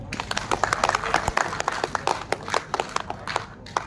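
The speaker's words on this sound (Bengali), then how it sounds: "হাততালি হয়ে যাক" A crowd at a fan club book launch celebration claps in sustained, dense applause lasting several seconds, with a few voices audible underneath.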